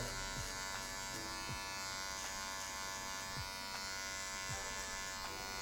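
An electric hair clipper fitted with a 1.5 guard cuts hair during a high fade, giving a steady, quiet mechanical buzz with small periodic dips as it moves through the hair.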